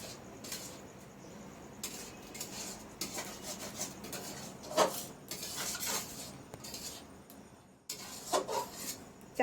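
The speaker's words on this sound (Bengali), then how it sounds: "এখানে রান্না হচ্ছে।" Dishes, pots and utensils clatter and scrape through kitchen cooking and stirring, with a steady run of clinks and rubbing strokes and a few sharper knocks, fairly close and with no talk.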